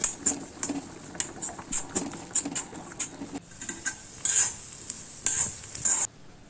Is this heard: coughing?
no